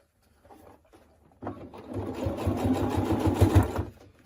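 A sewing machine stitches a half-centimetre seam on a cap, running as a steady, close, rapid whir from about a third of the way in to the end, after a few quieter handling sounds.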